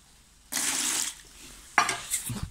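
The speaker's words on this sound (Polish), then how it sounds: "Wodę wyleję." Water is poured out in two splashing bursts, the first longer and steady, the second shorter, close by with no talking.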